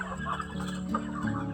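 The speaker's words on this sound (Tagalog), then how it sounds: "yan yung alaga kong manok na isa." Several pet chickens cluck in a steady, close, overlapping stream of short calls, with no voices present.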